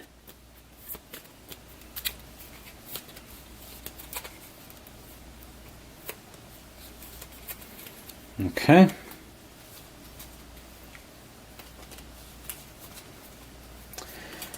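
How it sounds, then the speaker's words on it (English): Goblin cards from the Tiny Epic Dungeons board game being shuffled at a table: faint soft riffling and light ticks, with one louder brushing burst midway, and a brief spoken word. "we're all done shuffling up the goblins"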